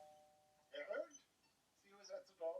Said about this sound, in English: they have a doorbell on this fucking lab